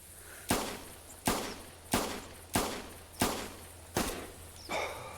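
Six rifle shots from the hunting game theHunter Classic, each a sharp loud crack with a decaying tail, fired at a steady pace under a second apart.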